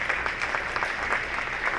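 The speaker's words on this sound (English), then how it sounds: "Another round of applause." Applause from an audience at a chamber of commerce business meeting, a steady, dense patter of clapping hands filling the room without break, fairly loud and continuous.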